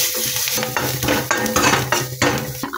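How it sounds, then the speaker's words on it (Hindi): Cumin seeds and onion fry in a hot pan for urad dal and cucumber bari, a busy close sizzle broken by repeated scrapes and clinks of a spoon stirring against the metal. "जीरा डाल देती हूँ और प्याज भून दी"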